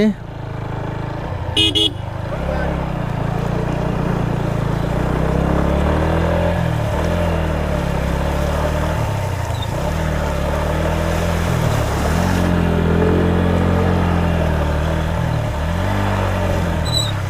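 A motorcycle engine drones loudly and steadily while crossing a river, its pitch rising and falling through repeated throttle changes, with a brief horn-like toot early on and people talking over it.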